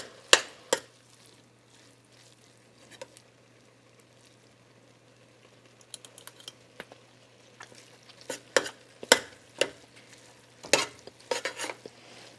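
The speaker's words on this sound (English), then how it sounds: "And I start in the middle stirring, and then I just gradually add in my sides." Chinese-style noodles and chicken are stirred in a pan, making scattered scraping and clattering strokes over a faint steady sizzle, quiet at first and busier toward the end.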